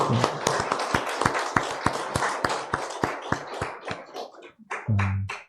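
A church congregation claps in unison to welcome a member: a steady, rhythmic run of crisp claps that thins out toward the end, followed by a brief voice.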